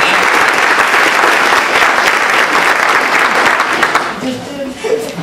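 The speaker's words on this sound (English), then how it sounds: "Let's give him a round of applause." Loud audience applause for an award recipient at a library leadership event, a full dense burst of clapping that tapers near the end as a voice begins to speak.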